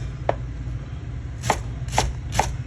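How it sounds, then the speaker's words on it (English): A knife slices garlic on a cutting board, four crisp, close taps: one single cut, a pause, then three evenly spaced cuts over a low steady background hum. "Just slice. Little garlic."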